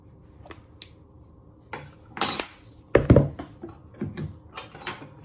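A knife scrapes and clinks against a bowl while stirring flour, ginger and bicarbonate of soda, scattered metallic taps and scraping strokes at an irregular pace, close and fairly quiet.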